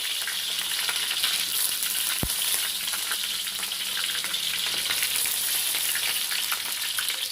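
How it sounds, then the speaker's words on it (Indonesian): Onions fry in hot oil in a home kitchen, giving a loud, steady, close crackling sizzle with one sharp click partway through; no talk is heard. "Sekarang kita goreng bawangnya ya."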